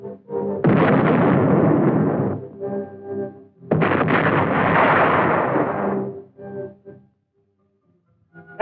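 Field artillery guns fire on an infantry position in trenches at a training range, two long, loud, rumbling blasts each rolling for a couple of seconds, with fainter after-rumbles and a quiet tail.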